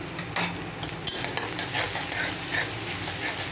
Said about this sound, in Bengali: আর এই তেলের মধ্যে দিব হচ্ছে এখন কাঁচা পেঁয়াজ। পেঁয়াজগুলোকে ভেজে নেব সুন্দর করে।